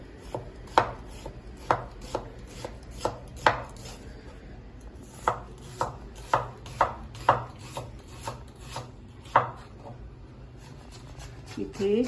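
A knife chops vegetables lengthwise on a board for a vegetable biryani, giving a run of crisp, close, irregularly spaced cuts with short pauses, heard alone without speech.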